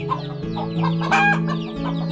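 Javanese village chickens cluck repeatedly in short, close bursts in a rural Central Java setting, with a steady low hum running underneath and no talking.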